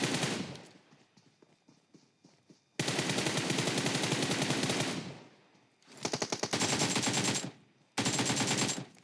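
Automatic gunfire in PUBG Mobile on the Erangel map, with long loud rapid-fire bursts separated by brief pauses and a few scattered shots in between, close and dominant, with no talking.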